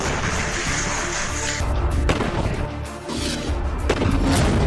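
A blast strikes an Israeli armoured tank, with a roaring rumble, then sharp heavy booms and crashing debris in loud, repeated bursts.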